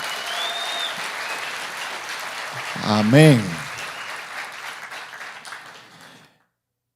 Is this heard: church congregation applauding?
yes